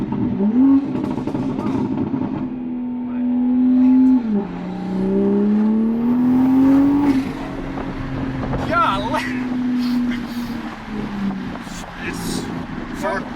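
A Toyota GR Supra with a BootMod3 tune, downpipe and 93-octane map revs through a short pull. Its loud, droning engine note dips, then climbs steadily before easing off, with wind noise across the microphone.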